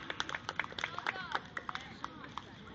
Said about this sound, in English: that's right, clap your hands